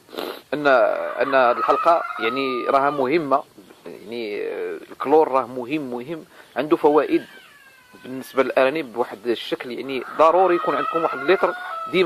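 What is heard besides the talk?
hens clucking at egg-laying time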